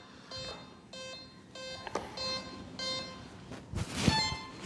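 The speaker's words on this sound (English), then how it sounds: "that beep is the cell count" Arming beeps from an E-flite Habu SS RC jet: a series of short, evenly spaced electronic tones repeating about five times, followed by a louder burst of rushing noise near the end.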